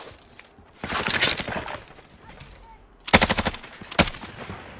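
Automatic gunfire in Call of Duty Warzone, the battle royale video game: two loud rapid bursts of shots, the second sharper and closer, followed by a single crack, over a low background of game noise.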